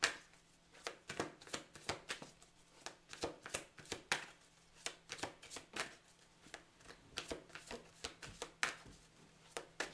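A tarot deck is shuffled and cut by hand, a rapid run of crisp riffling card slaps in an even rhythm, close and fairly quiet, with no talking.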